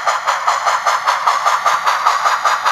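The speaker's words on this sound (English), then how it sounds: "So the engine gets fully onto the drop section here, and some current will flow." Model railway locomotive running onto a track section, giving a steady mechanical whir with a regular pulsing rhythm, close and fairly loud, without talk.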